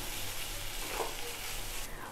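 Ginger-garlic paste and spice masala frying in hot oil for a banana-stem dish, a steady broadband sizzle holding at an even level throughout, close and alone with no voices.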